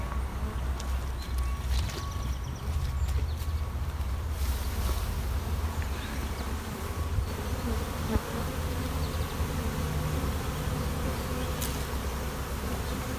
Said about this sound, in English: So, frame with brood, we'll shake these bees in.